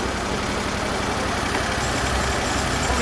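An SHP400 stump grinder engine idles steadily and close by, a constant low throbbing rumble with no voices over it.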